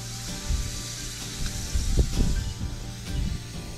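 Yabbie tails fry in hot garlic butter, giving a close, uneven sizzle and hiss with a few louder spits and crackles rising and falling.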